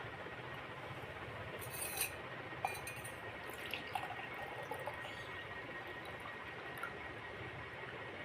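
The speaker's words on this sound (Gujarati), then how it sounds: "જો મિત્રો આ છે ને થોડુંક લીલા કલરનું બની ગયું છે તો હવે આપણે ગાળી લઈએ" Neem flower water is strained into a glass with a faint, steady liquid trickle and scattered small drips. The sound is quiet and close, with no voices.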